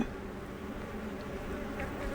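Honey bees buzz inside an opened nuc hive, a steady, dense hum of many insects close to the microphone, with no talking.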